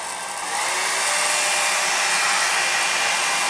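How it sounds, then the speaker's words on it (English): A hair dryer switches on and runs with a steady, loud whooshing hiss, close by and uninterrupted, drying paint at a workshop. "I'll show you if I have the hair dryer."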